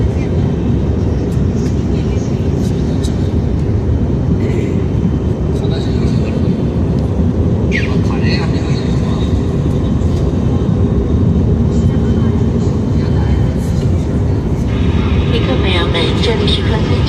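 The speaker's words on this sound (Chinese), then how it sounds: "我们的飞机在下降高度过程中受气流影响有颠簸" Steady, loud airliner cabin roar fills the whole stretch as a passenger plane descends toward landing through turbulence, a dense low rumble with faint voices and small clicks scattered above it.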